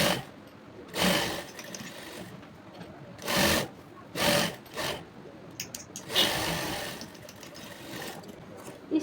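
A sewing machine stitches fabric in short, uneven bursts, some stronger than others, with rubbing and handling sounds of cloth in between, quiet and close.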